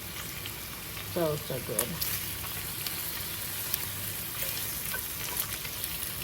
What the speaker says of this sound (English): that bacon smells so good